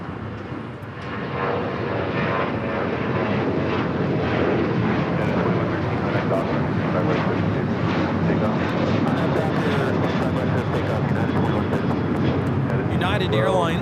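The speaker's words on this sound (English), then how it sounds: "United Airlines 797 taking off to Los Cabos on the 737-800" A United Airlines Boeing 737-800 jet takes off at LAX, its engines rising into a steady, fairly loud roar that holds for several seconds, with people talking over it.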